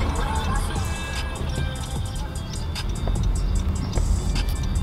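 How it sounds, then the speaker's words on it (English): Road traffic rumbles steadily from inside a car, with a constant low engine and tire drone and faint clicks over it while someone talks. "crazy traffic right now"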